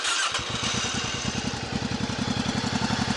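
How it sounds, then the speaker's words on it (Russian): A van engine cranks and catches, then settles into a steady rhythmic idle with a regular chugging pulse, close and alone. "И хотел бы послушать звук двигателя."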